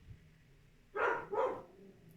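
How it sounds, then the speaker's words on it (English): A dog gives two quick, close barks in a row against an otherwise quiet room. "Dog is barking."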